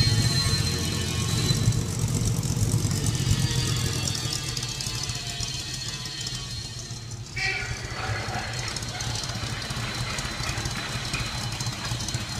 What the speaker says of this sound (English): the idle seems a little bit low to me